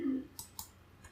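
Computer mouse clicks, two sharp, quiet clicks about a fifth of a second apart with a fainter third click after, heard close and alone in a quiet room.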